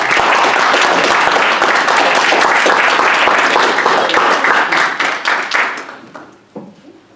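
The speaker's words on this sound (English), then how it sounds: "I'd like to give a big round of applause to them" A Toastmasters-style speakers' club audience gives sustained, dense applause from many hands, loud and steady, then thinning out and fading to scattered claps near the end.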